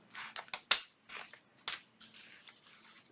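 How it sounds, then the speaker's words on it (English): Paper being cut with a large pair of scissors for a junk journal cover: a few quiet, crisp snips and slicing strokes close by, spaced irregularly, with soft rustling of paper in between. "Get my bigger scissors here. And I think maybe let's cut this right here."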